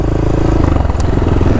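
Old Yamaha XT500 single-cylinder motorcycle engine under way on a ride in Saskatchewan, a steady, close, loud thumping drone with wind noise and no break.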